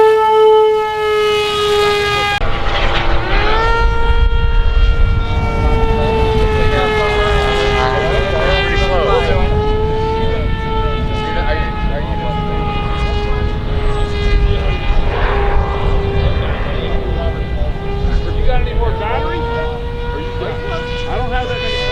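A Ritewing Drak RC plane motor at Joe Nall takes off, a loud, steady high-pitched whine that rises in pitch and holds for about twenty seconds, with outdoor voices chatting underneath.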